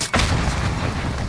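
A frag grenade goes off in the shooter game Warzone, a sudden heavy blast followed by a sustained rumbling roar that fills the short moment without talk.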